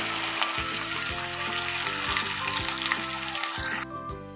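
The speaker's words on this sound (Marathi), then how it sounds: "याच्यात आता मी ग्रेव्ही टाकते शिजण्यासाठी" Gravy cooking in a pan with garlic-ginger paste and bay leaves for mutter paneer, a steady close sizzle and bubbling fry that runs continuously without speech, easing slightly at the end.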